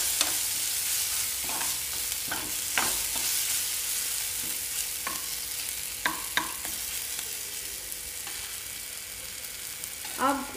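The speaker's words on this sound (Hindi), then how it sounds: "अब इस सब को अच्छे से मिक्स कर लेंगे।" Spices, including kasuri methi and coriander powder, are stirred in a pan for a bhindi sabzi, with a steady sizzle under repeated spoon scrapes and taps spread across the clip, close and with no talking.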